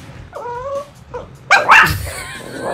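A dog in a studio whimpering with a few thin, high yips, then a louder burst of snorting or sneezing and scuffling up close.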